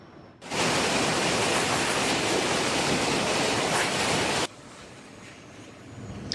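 Water from a broken water main in Los Angeles gushes through a flooded street as a steady, loud rushing roar that starts and stops abruptly.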